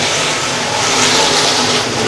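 Stock race cars roaring around Star Speedway in close battle, including car number 14, a loud, steady wall of engine noise without breaks.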